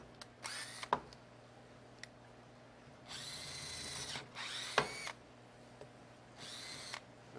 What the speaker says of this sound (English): Take a drill right in the center.